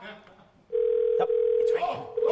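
A telephone dial tone hums steadily for a while as people talk and laugh over the line nearby.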